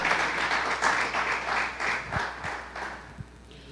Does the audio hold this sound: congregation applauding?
yes